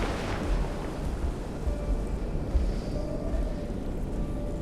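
Strong, roaring freezing wind gusts in the video game Path of Titans blow continuously, a broad, rushing noise with deep rumbling surges, loud and unbroken, with no voices.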